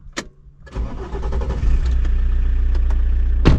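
A car engine cranks briefly, catches and settles into a steady, close idle, with a few sharp clicks and knocks on top of the rumble.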